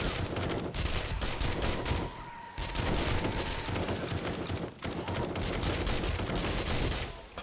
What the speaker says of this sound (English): Oh, the SMG just shreds them.